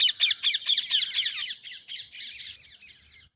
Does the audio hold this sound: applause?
no